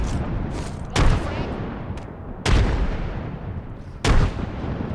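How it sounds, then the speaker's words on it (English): Frag grenades going off in the video game Apex Legends, three sharp booming blasts spaced about 1.5 seconds apart, each with a long decaying rumble, loud and close over a continuous background roar. "Lobbing a frag. Chucking a frag."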